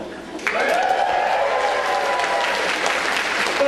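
Applause from an audience at a live comedy show bursts in after a brief pause and holds as a steady, dense wash of clapping, loud and continuous to the end.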